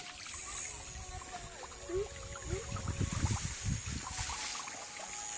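Water runs into a filling backyard pool, a steady trickling and splashing wash with small bubbly gurgles, close and continuous, with no talk.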